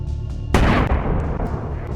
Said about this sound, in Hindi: कार में रखे विस्फोटक में धमाका होता है